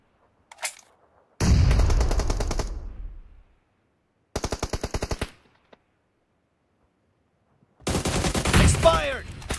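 Video game gunfire, loud close bursts of rapid automatic shots in several rattling volleys separated by silences, with a single shot in the middle and no talk.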